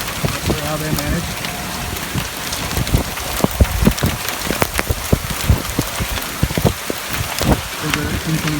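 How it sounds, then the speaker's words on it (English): Heavy rain from a storm pours steadily, a dense close hiss with scattered splatting drops hitting surfaces throughout, loud and continuous. "I knew that was not your typical storm when I saw that wall of rain building."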